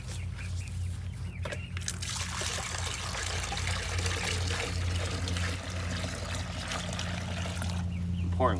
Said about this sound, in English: I'm pouring water for the chickens